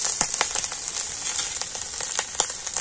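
Ginger frying in hot oil in a pan, a steady close sizzle with frequent sharp crackles and pops, no voices.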